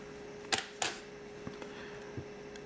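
A camera shutter fired by a JSR intervalometer during bulb ramping, giving two sharp mechanical clicks close together followed by a few fainter ticks in a quiet room, with no talking.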